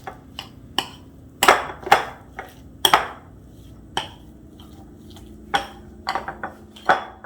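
Utensil scrapes and knocks against a bowl while low carb pizza dough is stirred, irregular clinks and taps close by with short pauses between.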